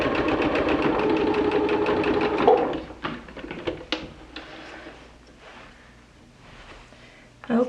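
A sewing machine stitches just inside the edge of a fabric drawstring for a layer cake drawstring bag, its steady rapid mechanical run loud for the first couple of seconds, then stopping to scattered clicks and handling noises.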